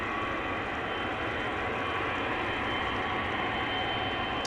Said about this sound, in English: Next up, China Eastern, flight 772, passenger 777-300ER going to Shanghai, China